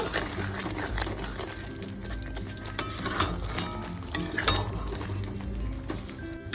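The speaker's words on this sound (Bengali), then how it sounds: "এবার খুব ভালো করে একটু নাড়িয়ে নেব" A spoon stirs yogurt chicken sprinkled with kasuri methi in a hot pan, with soft scraping and wet shuffling over a low sizzle, close and fairly quiet.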